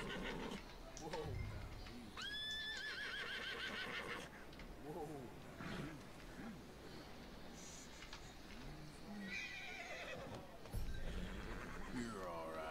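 A horse whinnies in a high, shaky neigh amid Detroit: Become Human game sounds and hoof clatter, with people talking quietly underneath.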